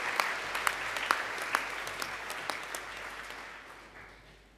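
A school assembly audience applauds in a hall, a dense wash of many hands clapping with a few sharper claps standing out, the applause gradually fading toward the end.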